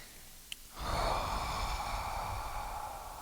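A single big breath drawn in and let out before Kapalabhati yoga breathing: a faint click, then a long, steady breathy rush of air lasting several seconds, close and alone.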